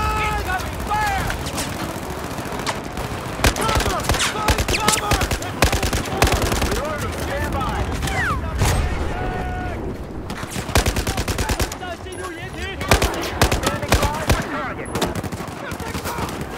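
Loud Battlefield 4 gunfire rattles in dense bursts throughout, with close automatic fire, scattered single shots and a voice talking underneath at times.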